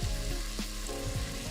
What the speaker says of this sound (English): I basically want to saute these mushrooms until fragrant